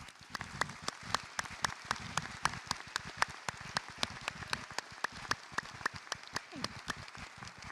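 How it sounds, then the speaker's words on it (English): Scattered applause from a seated audience at a university opening convocation honoring scholarship recipients, steady, moderately distant clapping throughout with individual claps standing out. "Let's give them a round of applause."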